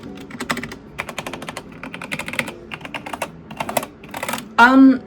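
Quick clattery typing on an old computer keyboard, keys pattering in uneven bursts close by, ending with a brief louder sound.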